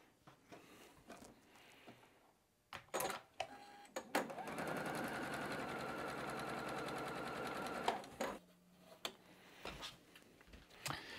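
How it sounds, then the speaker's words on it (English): Sewing machine stitching cobalt and black quilt squares into rows for a star quilt, one steady rapid whirring run of several seconds framed by close handling clicks and fabric shuffling. "I'm going to go ahead and quickly sew on these last squares and then marry these rows together."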